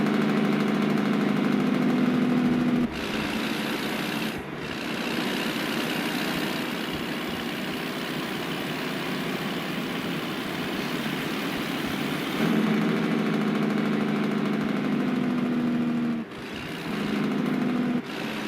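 A steady, loud Kenworth W900 truck with a Cummins ISX 600 engine idling in American Truck Simulator, a low rumbling drone holding constant with a couple of brief dips, no talking.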